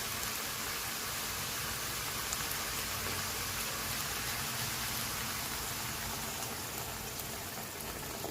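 Water pours steadily into a cooking pot for chicken sotanghon soup, a continuous broadband splashing rush that stays even and close throughout, with no talk.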